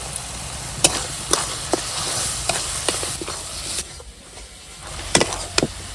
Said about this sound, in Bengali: মশলার সঙ্গে ভালোভাবে আমি সবজিটা ভেজে নিয়েছি